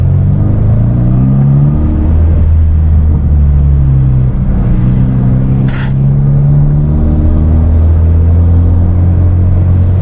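Engine of a 2016 Hyundai Veloster Turbo driving in second gear, a loud low rumbling drone with rising and falling pitch as it pulls and eases, steady road noise underneath and a brief hiss near the middle.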